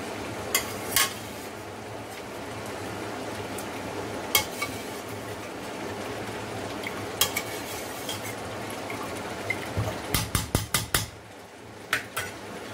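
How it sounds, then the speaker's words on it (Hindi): Meat is stirred in a cooking pot for gobi gosht, cauliflower with lamb, with a low sizzle running under sharp metal spoon clanks against the pot that come in scattered knocks and then a quick rapid cluster near the end. "तो तकरीबन 3-4 मिनट भूनने के बाद आप ये गोश्त इसमें डाल दें।"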